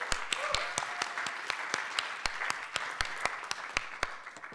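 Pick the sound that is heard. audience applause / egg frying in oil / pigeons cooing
audience applause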